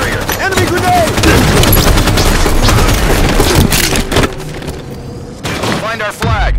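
Halo 5 multiplayer battle on a team arena map, with a loud grenade blast amid constant gunfire and crackling impacts, all dense and close.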